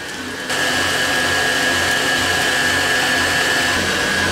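An electric mixer switches on and whirs continuously at high speed mixing pancake batter, a loud steady motor hum with a thin whine.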